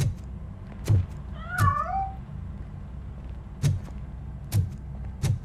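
A fleeing cat in Robocop: Rogue City gives one wavering meow among several dull, regularly spaced thuds that sound like footsteps or bumps, no talk.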